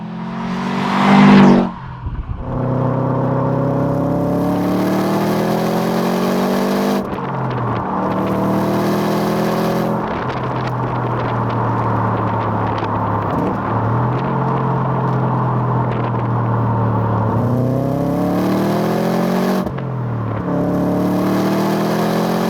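A 2002 Subaru Impreza WRX STI Type UK Prodrive Style four-cylinder pulls hard through the gears, loud rising engine sweeps broken by short shift pauses, heard close from onboard without talk.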